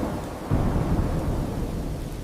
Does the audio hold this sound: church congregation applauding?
no